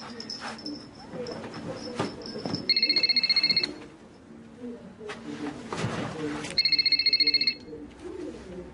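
A phone rings twice in an indoor scene, each burst a rapid electronic trilling tone lasting about a second, close and clear, with a voice and household sounds between the rings.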